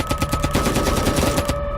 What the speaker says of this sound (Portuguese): Os tiros começaram sem aviso.